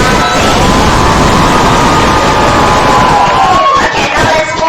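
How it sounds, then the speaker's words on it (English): Audience at a school debate competition applauding: a loud, steady wash of clapping and crowd noise that holds evenly throughout, with a murmur of voices mixed in. "Okay, give a applause for"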